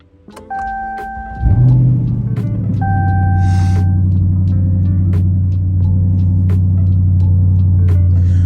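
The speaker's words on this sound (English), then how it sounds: "let me start up the car so y'all can see what I'm talking about" A Dodge Charger R/T starts up nearby: chimes and clicks, then the engine cranks and catches with a loud burst, settling into a steady, deep idle rumble.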